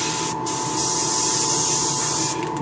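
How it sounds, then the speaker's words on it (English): An airbrush fed by an air compressor sprays chrome paint in a steady, close hiss that holds for a couple of seconds between short bursts, over a faint background hum and with no talking. "She's spraying."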